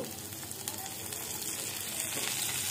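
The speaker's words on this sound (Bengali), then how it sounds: "পেঁয়াজটাকে ভালোভাবে লাল লাল করে ভেজে নিতে হবে" Chopped onions sizzle and fry in a pan for veg biryani, a steady, close, crackling hiss with occasional stirring scrapes and no talking.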